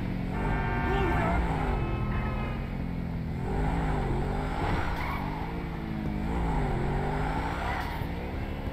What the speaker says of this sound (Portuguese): esse Bugatti tá máquina.